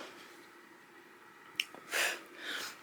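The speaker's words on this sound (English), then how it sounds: "To sneeze." A single person's sneeze: a short sharp intake and snort, then a louder breathy burst and a trailing exhale, close and alone in a quiet room.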